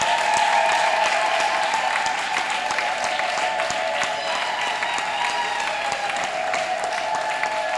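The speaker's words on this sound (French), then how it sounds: "Nous acclamons les Seigneurs." A church congregation applauds at a pastor's ordination service, a steady, dense clapping from the full room that continues throughout with no speech over it.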